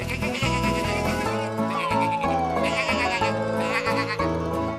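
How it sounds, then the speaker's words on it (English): Sheep bleat repeatedly, several overlapping calls close by, wavering and loud. "It's the sheep."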